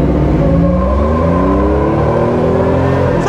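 Jeep CJ-5 engine revving loud and close during a burnout in an intersection, a sustained roar with pitch climbing steadily over a few seconds, no voices.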